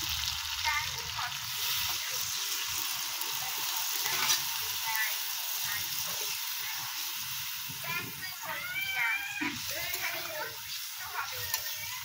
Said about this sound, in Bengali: আমাদের চিকেন কষাটা রেডি হয়ে গেছে। এবার আমরা একটু জল দিয়ে দেবো।